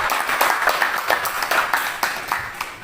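Steady, fairly close clapping from a small group closes a school dissemination session on positive culture, continuing evenly for a few seconds without talk.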